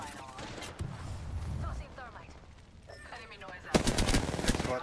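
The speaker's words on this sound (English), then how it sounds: "Oh, I'm getting shot at." Video game gunfire in a battle royale lobby, bursts of automatic fire and shots, with a dense loud volley toward the end, amid game noise and a player's talk.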